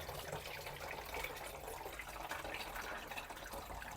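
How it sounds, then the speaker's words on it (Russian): Homemade bread kvass made with malt is poured through a small funnel into bottles, giving a soft, continuous trickle of liquid that sounds faint and close, with no one talking. "берем бутылочки, леечку и наливаем аккуратненько наш квас"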